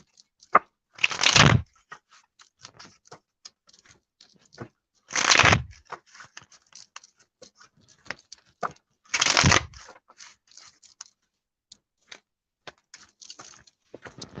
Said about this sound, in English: I'm just going to shuffle your deck, Heather.